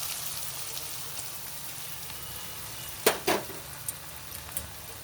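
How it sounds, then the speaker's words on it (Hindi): Ghee and dry fruits poured over carrot halwa in a pan, a faint steady sizzle with a couple of sharp crackling pops midway and small scattered spatters afterward. "तो अब इस तरह से ये हम जो घी है और ड्राई फ्रूट हैं ये सारे इस पर डाल देंगे।"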